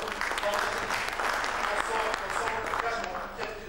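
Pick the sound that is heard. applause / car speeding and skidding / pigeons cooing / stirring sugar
applause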